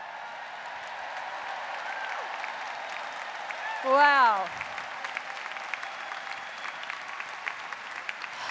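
A convention audience of delegates at the 2015 NEA Representative Assembly applauds first-time delegates, a steady wash of clapping throughout with a brief spoken exclamation near the middle.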